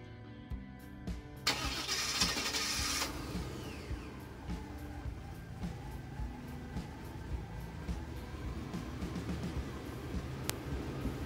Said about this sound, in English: Even though I got the truck running,